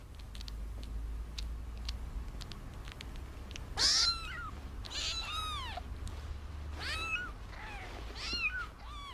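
Nursing domestic kittens give repeated high, thin meows in an irregular run of overlapping cries over a steady low rumble, close and fairly loud.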